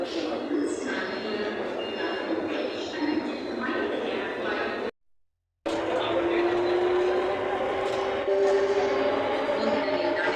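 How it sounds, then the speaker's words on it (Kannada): Bangalore metro train pulling into a platform, a loud rumbling roar of wheels and carriages with a sustained tonal whine rising later, broken by a brief cut of silence midway, with a platform announcement voice over it. "ನಿಲ್ದಾಣದ ಕಡೆಗೆ ಹೊರಟಿರುವ ರೈಲು 4ನೇ ನಂಬರ್ ಪ್ಲಾಟ್ಫಾರ್ಮ್ ಅನ್ನು ಪ್ರವೇಶಿಸಲಿದೆ"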